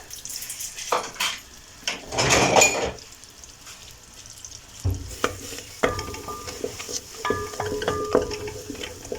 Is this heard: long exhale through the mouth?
no